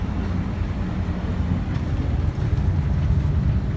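Steam locomotive 1556 at Waterloo Central Railway rumbles steadily nearby, a dense low-pitched mechanical roar continuing without break.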